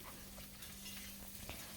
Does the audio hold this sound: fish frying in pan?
yes